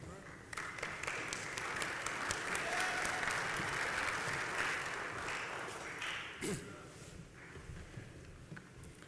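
An audience of Morehouse College students at a Crown Forum gathering applauds student government officers, a steady polite clapping from a large room that swells slightly then tapers off.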